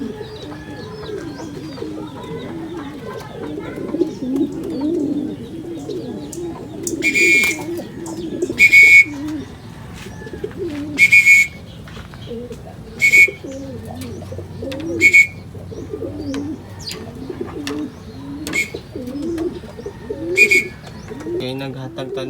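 Racing pigeons coo softly and steadily at the loft, with repeated sharp chirps or clicks cutting through every couple of seconds and occasional low voices in the background.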